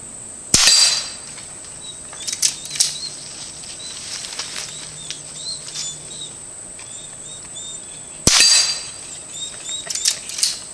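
Two sharp rifle shots from a Henry Frontier long barrel, spaced several seconds apart outdoors, each with a short ringing tail over a steady high insect drone.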